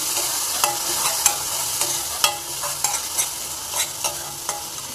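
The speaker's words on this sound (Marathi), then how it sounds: "आपण पेस्ट टाकलेली आहे, हलवून घेऊयात।" Ginger, tomato, garlic and cashew paste fries with onions for a restaurant-style palak paneer while a spoon stirs it, giving a constant close sizzle punctuated by regular scraping clinks, with no voices.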